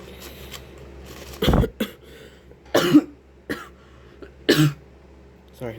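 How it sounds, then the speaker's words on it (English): A person recovering from a cold coughs several times indoors, sharp bursts scattered irregularly over a few seconds with quieter throat sounds between. "Sorry, I still have a bit of cough because I recently had a cold."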